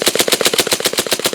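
Rapid string of suppressed AR rifle shots fired with a Partisan Disruptor forced-reset trigger at steel targets, about a dozen evenly spaced loud pops in quick rhythm, close by with no talking.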